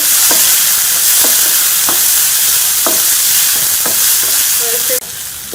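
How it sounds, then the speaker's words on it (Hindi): Tomatoes are stirred into onions and green chillies frying in a pan for aloo chaat, a loud, continuous sizzle with regular spoon scrapes and taps, ending abruptly. "इसमें हम ये टमाटर भी शामिल कर लेंगे और टमाटरों को भी इसके साथ मिक्स कर लेंगे"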